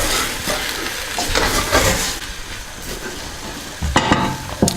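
Beef and flour fry in a stew pot, a loud, close, crackling sizzle, broken by stirring scrapes and a few sharp pot clanks late on, with no talking.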